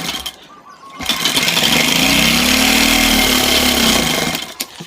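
Sewing machine running a continuous stitch along a kurta shoulder seam, a loud, close motor whir that starts abruptly, holds steady for about three seconds with a slight pitch rise and fall, then stops.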